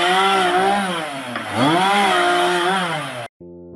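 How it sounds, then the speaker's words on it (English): A chainsaw runs loud and close, its engine pitch dipping and rising as it bites into wood, then cuts off abruptly. "A simple modification to the chainsaw will free up one hand and do the job safer and more efficiently."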